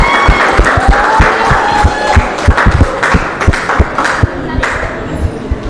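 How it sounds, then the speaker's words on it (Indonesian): An audience at a high school student council candidate debate claps and cheers for a candidate pair, a dense, loud patter of hands with crowd noise throughout. "Beri tepuk tangan kepada pasangan nomor urut 1."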